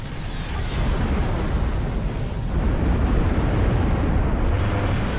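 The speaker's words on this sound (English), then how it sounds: "Our bombers are now locked onto the hacked nexus." Bomber strikes in the strategy game Ashes of the Singularity produce a dense, continuous rumble of explosions, a steady roar of blasts and bursts that holds throughout without speech.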